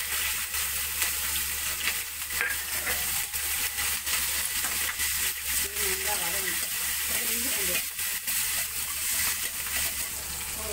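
Spices sizzle in hot oil: cinnamon, cloves and drumstick leaves fry with a steady, close hiss and crackle, with occasional stirring scrapes and no talk.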